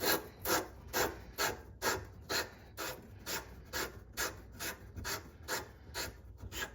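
A sandpaper pipe-cleaning tool twisted back and forth on a plumbing tube during a bathroom renovation gives a steady rhythmic rasp, about fourteen even scraping strokes close by, with no voices.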